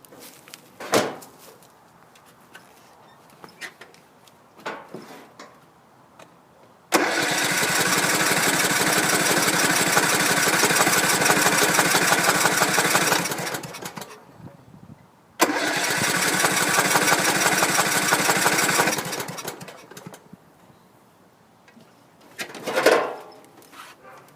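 A Troy-Bilt Super Bronco engine with a fuel delivery problem cranks with scattered clanks, then fires and runs loudly for several seconds, stalls, restarts and runs again before dying back to quiet rattles.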